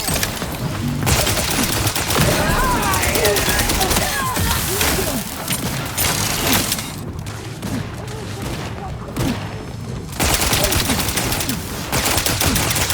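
Sustained gunfire from a firefight in The Outer Worlds 2, with dense bursts of automatic weapons and scattered booms rolling continuously, briefly thinning in the middle, under a game soundtrack and occasional voice.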